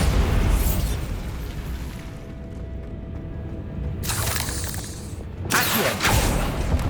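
Bombarda blasting spell going off in Hogwarts Legacy: loud, broad explosive bursts open the clip and then strike again twice further on, each one a booming blast carried over a continuous rumbling game backdrop.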